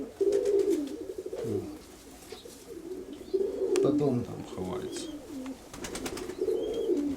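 Pigeons coo in a dovecote, birds sitting on eggs, with repeated low throaty calls rising and falling close by while people talk in Russian and Ukrainian over them.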